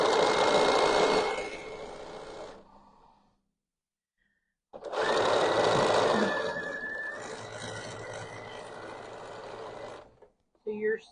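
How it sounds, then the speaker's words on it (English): Domestic sewing machine stitching through six quilt layers of black fabric, front and back, in a quilt-as-you-go join: a steady whirring hum in two bursts with a pause between, close and fairly loud, with a voice talking over it. "by sewing through the 3 layers, you're now sewing through 1, 2, 3, 4, 5,"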